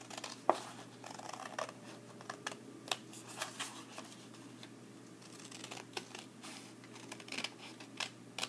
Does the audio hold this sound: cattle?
no